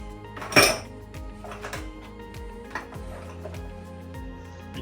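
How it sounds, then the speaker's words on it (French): Vegetables and butter going into a cooking pot, with a sharp metallic clank followed by light clinks and taps of cookware and utensils, close and moderately quiet, no voices. "Nous prenons un chaudron, nous mettons les éléments à l'intérieur."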